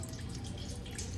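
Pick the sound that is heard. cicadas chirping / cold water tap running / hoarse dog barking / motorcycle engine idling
cold water tap running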